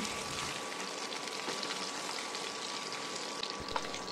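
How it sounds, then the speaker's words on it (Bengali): Hilsa fish head pieces fry in hot oil in a pan, giving a dense, steady sizzle with small crackles throughout and no talking. "বড় টুকরোটা একটু ভাজতে টাইম লাগবে, তাই ওটাকে আমি দেখো আরও একটু ভেজে নিচ্ছি"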